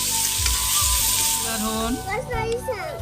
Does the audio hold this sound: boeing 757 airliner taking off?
no